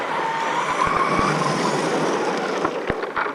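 FTX Bugsta RC car converted to a 4300KV brushless motor running fast: a continuous high-pitched motor whine with tire hiss and scuffing, punctuated by sharp knocks from bumps, heard close and steady.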